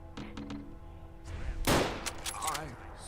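Enemy shotgun fire in a video game: a loud blast stands out among several sharper gunshot bursts and thuds, with game effects around them and no one talking.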